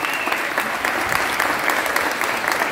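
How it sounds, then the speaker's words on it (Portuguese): A crowd of people at a comedy show claps together in steady, dense applause that holds at the same level throughout, fairly close and with no talking over it. "Dá um aplauso, seu Sérgio."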